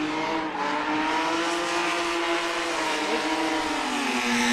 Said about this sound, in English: that does not sound like an M engine. That sounds like an S50 or S52. It sounds very nice.